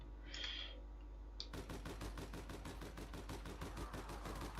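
Rapid automatic gunfire in the online shooter APB Reloaded, a steady string of sharp shots at an even rhythm running for several seconds, fairly faint, after a brief muffled burst at the start.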